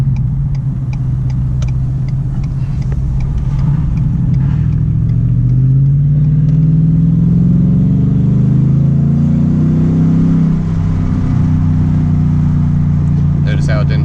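A 2016 Ford F150 XLT in sport mode, its engine droning low and rising steadily as it revs up to about 4,000 RPM in second gear before dropping on a shift, heard from inside the cab with someone talking over it.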